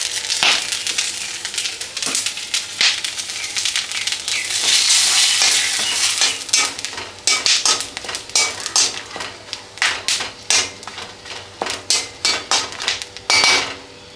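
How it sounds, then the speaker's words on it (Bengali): Whole spices — garam masala, bay leaf and dried chilli — crackle in hot oil left from frying fish, a steady sizzle broken by sharp spatters and scraping stirs that grow into quick clattering bursts toward the end. "এই মাছ ভাজার তেলেই, তেল গরম আছে, আমি এটা গরম মশলা আর তেজপাতা, শুকনো লঙ্কা,"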